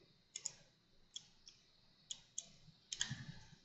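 A computer mouse gives a series of faint, crisp clicks, roughly eight of them in uneven pairs and singles, in a quiet room.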